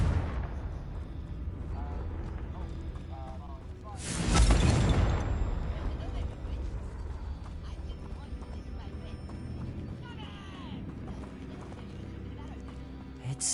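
Confringo fire spell blast in Hogwarts Legacy, one loud booming burst about a third of the way in over a constant background of game ambience and clattering, fading back to steady noise afterward.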